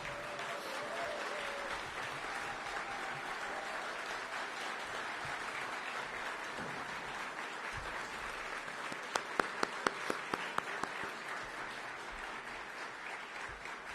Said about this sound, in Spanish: por lo cual pido para él un gran aplauso